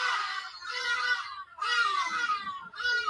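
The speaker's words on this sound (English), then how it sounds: "Yeah, that's the hardy-dar sound. Can you hear it?" Hadeda ibis calling at a large bird sanctuary in Africa: three loud, harsh, raucous squawking bursts separated by short gaps, close and clear with no talking.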